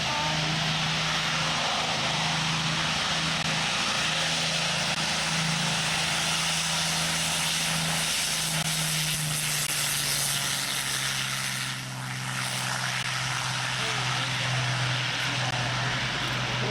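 A de Havilland wooden high-speed heavy bomber flying over a beach airshow, a sustained loud piston-engine drone with a steady low propeller hum that slowly shifts pitch as it passes.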